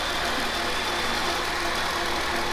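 A vehicle engine runs steadily at idle after a belt repair, making a constant close hum with a faint knock and no voices.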